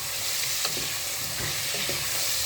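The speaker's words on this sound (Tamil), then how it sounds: "தக்காளி கொஞ்சம் வதங்கட்டும்." Tomatoes sautéing in oil with onion and garlic in a pan, a dense continuous sizzle with a few soft stirring scrapes, close and steady, with no voices.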